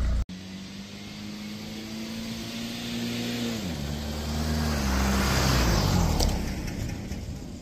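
A TDI diesel engine swapped into a Toyota Tacoma, warmed up and idling with a steady, close rumble, its pitch dipping briefly midway while the engine noise stays continuous.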